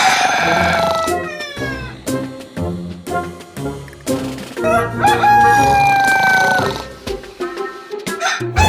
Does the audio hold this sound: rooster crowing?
yes